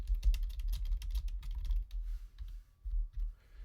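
Rapid typing on a computer keyboard, a quick, close run of crisp key clicks with short pauses and a few slower taps near the end.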